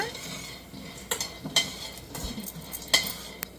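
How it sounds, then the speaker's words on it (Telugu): Grated bottle gourd frying in ghee for halwa, with a spatula scraping and clinking against the pan in irregular strokes over a faint sizzle. "ఇప్పుడు ఇంకా కొద్దిగా నెయ్యి వేసి తురిమి పెట్టుకున్న సొరకాయన్ని వేసాయన్నమాట"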